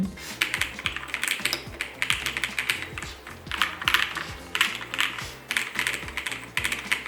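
Rapid, continuous clacking of keys on an Aula F68 wireless mechanical keyboard with a clear case and foam inside, close up, with an uneven rhythm of individual keystrokes and no voices.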